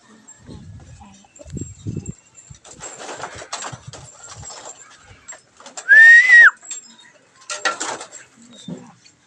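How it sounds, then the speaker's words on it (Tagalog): Pigeons cooing in a flock, with soft low coos scattered among people talking, a sharp whistle-like call midway, and assorted shuffling noises nearby. "Yan po natin mga kalapate, mga kalapatids."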